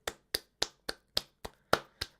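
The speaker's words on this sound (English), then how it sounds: "Huge round of applause for Daddy JDM," Eight crisp claps from what sounds like a single pair of hands strike in an even, steady rhythm, close and clear, each one sharp and quickly fading.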